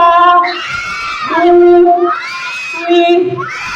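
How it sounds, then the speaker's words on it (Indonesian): Schoolchildren at an Islamic primary school storytelling event shout a count together in unison, three loud, drawn-out bursts separated by short pauses, with no adult talking over them. "Teman-teman hitungin yang kenceng sampai 3 ya. Yang teriak yang kenceng"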